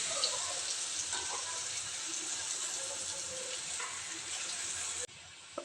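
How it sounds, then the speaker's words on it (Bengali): Potol, or pointed gourd, frying in a pan at home gives a steady, fairly loud broadband sizzle that runs throughout with a few soft stirring clinks, then drops abruptly quieter near the end. "আর দেখেন আমি কি করতে আছি, পটল ভাজি করি"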